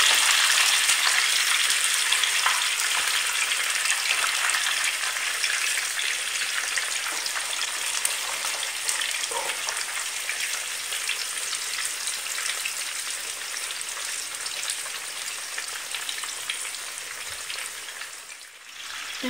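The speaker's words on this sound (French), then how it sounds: "Et là, je commence la friture." Eggplant slices, first soaked in salted water and drained, fry in a pan with a continuous dense sizzle and crackle, steady and close throughout, with no talking.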